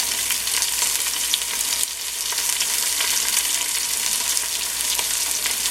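Short rib sears in hot oil in a pan, giving a steady, dense sizzle and crackle close up. The frying runs without a break for the whole stretch, with a brief dip partway, and no one speaks.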